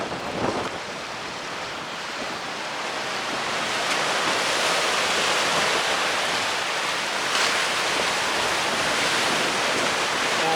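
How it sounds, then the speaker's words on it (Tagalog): Strong wind buffets the microphone on a coastal road in Davao City, a constant roaring rush mixed with surf from nearby waves, growing louder after a few seconds and holding steady. "Very windy ang hangin ngayon, no?"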